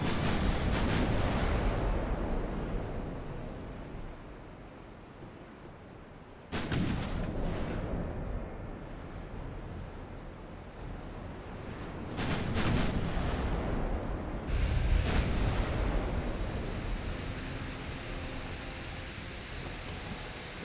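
Heavy naval gunfire from a battleship in Ultimate Admiral Dreadnoughts: loud booming salvos at the start and again around the middle and later, each followed by rumbling decay over a wash of sea and wind noise, with no voices.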